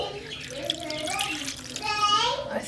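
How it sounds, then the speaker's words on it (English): Cold water poured from a tap into a bowl of noodles, a steady splashing trickle that runs throughout and swells near the end, with a voice talking over it. "I'm gonna add enough cold water to cover them all"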